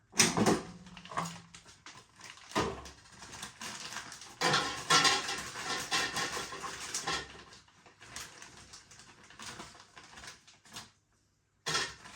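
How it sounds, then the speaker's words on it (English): Aldi Gastro hoisin chicken tenders are loaded into an air fryer basket with clattering, scraping handling sounds that come in irregular bursts, close up and fairly quiet, with a brief pause near the end and no talking. "let's get some of these in the air fryer."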